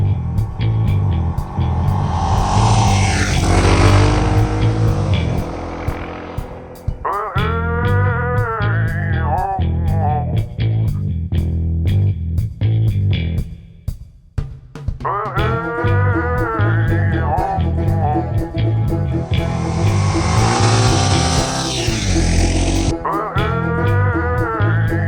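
A Suzuki DR650 dual sport motorcycle with swapped handlebars is ridden; its single-cylinder engine rises and falls through the gears, pulling loudly close by with steady wind rush and a brief lull midway.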